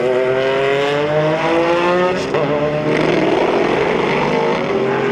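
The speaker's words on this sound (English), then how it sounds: "And they're all just settling in behind the pace car" Vintage Group C and IMSA GTP race cars at Sonoma Speed Festival rumble loudly behind a pace car, several engines droning and rising in pitch together as the field passes close by.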